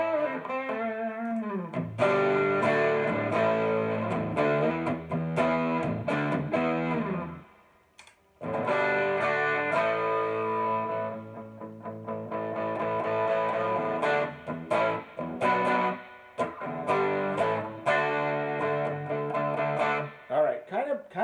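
An electric guitar runs through an MXR Distortion+ pedal with the distortion turned fully off and the output maxed, strumming clean, slightly buzzy chords and riffs, with a short pause partway through.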